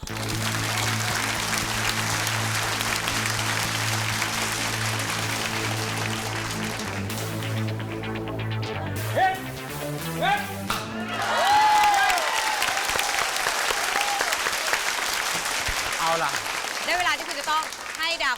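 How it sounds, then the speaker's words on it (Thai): Studio audience applauding on a Thai television challenge show after a performer's risky stunt; music plays first, then a broad wash of clapping rises in the second half with a voice talking over it. "ขอเสียงปรบมือหน่อยครับ"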